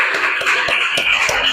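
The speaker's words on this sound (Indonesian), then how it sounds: "Tepuk tangan untuk kelompok 2." Students in a classroom applaud for a presenting group, a continuous crowd of clapping hands with a few sharper individual claps standing out, fairly close and steady.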